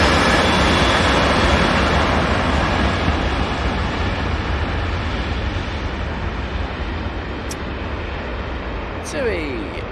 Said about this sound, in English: 737-800 on the roll off to Palma de Mallorca